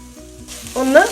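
Ground spices, turmeric, coriander and chilli powder, sizzle in hot oil in a pan for a hotel-style curry, with a spoon scraping and stirring them, the frying growing louder and busier toward the end.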